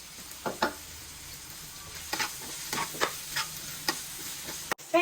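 Spoon scraping and stirring through sizzling masala in a pan for a fish curry, a steady fry hiss broken by irregular clinks and scrapes, close and alone, with a sharp knock near the end.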